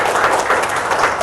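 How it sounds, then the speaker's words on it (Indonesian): Dense, continuous applause fills the room at an Indonesian training event in Tangerang, steady clapping from a sizeable crowd with no gaps and no voices over it. "tepuk tangan dong untuk kita semua"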